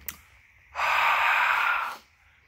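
A single close, breathy sniff or inhale lasting about a second as someone smells another person's breath, preceded by a faint click, with no talking.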